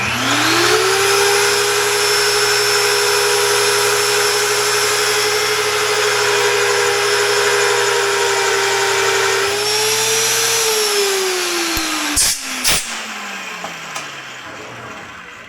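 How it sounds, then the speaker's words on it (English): A Weaver drill cuts pilot holes in a steel fabrication table: a loud, steady motor whine holds for about ten seconds, then winds down in pitch and stops, with a few clanks at the end. "I'm using the Weaver drill to do the drilling and the pilot drilling"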